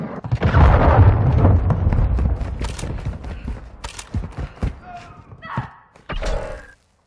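A hostile cruise missile launches in a combat video game: a loud, heavy rumbling blast at the start fades into scattered thuds, knocks and clanks, with a couple of brief tonal game alerts near the end.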